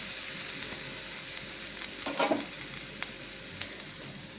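Ginger-garlic paste fries in coconut oil in a pan, making a steady, soft, close sizzle with a brief louder burst of crackling partway through as it is stirred, and no talking.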